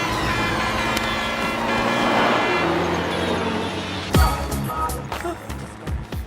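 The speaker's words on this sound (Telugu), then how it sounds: "లారీ!" A heavy vehicle roars past on the road close by, its engine rumble steady, then a sharp blaring burst and clatter as it goes.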